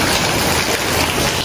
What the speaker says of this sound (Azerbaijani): Qurbanı kəsəndən sonra bir dənə yağış başladı.